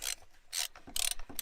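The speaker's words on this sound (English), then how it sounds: "I'm going to edit this part out of me using a ratchet and socket" A ratchet and socket work on a fire truck, with several short bursts of rapid clicking separated by brief pauses, close up and without talking.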